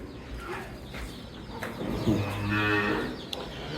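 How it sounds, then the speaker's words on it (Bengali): A cow at a dairy farm gives a single low, drawn-out moo close by. A faint bird coo and some background noise sit underneath, with no talking. "কিউট একটা গরু"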